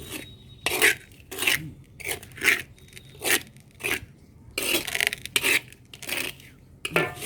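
Potting mix for an Aglaonema transplant is worked together by hand, a series of about a dozen rasping, scraping rubs in a steady rhythm, close and fairly loud, with short quiet gaps between the strokes.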